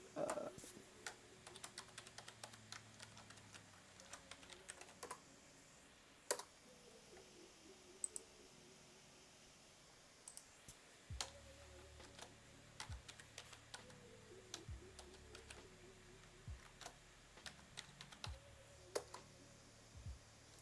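A password is typed on a computer keyboard, with quick quiet key clicks in short bursts and irregular pauses between them.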